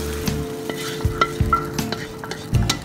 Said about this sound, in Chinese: 这时候我的鸡肉已经完全炒熟了，这时候把它盛出来，放到碗里